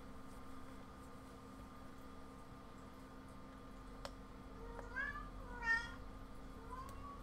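A house cat meows twice, faint and fairly close, late in an otherwise quiet room with a low steady hum and a couple of soft clicks.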